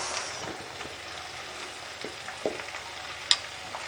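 Capsicum and green onion are stir-fried in a pan with a steady, moderate sizzle and occasional light scrapes and clinks from the stirring utensil. One brighter clink stands out near the end.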